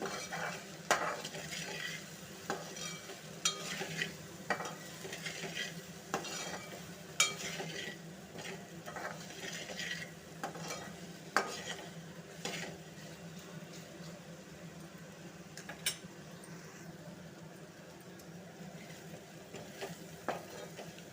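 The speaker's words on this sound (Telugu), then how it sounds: "తగినంత సాల్ట్ వేసుకొని కాస్త మగ్గనివ్వాలి" Okra and tomato curry simmers in a pan with salt, a steady low sizzle underneath while a utensil scrapes and clinks against the pan in irregular stirring strokes, fairly close and moderately loud, with no talking.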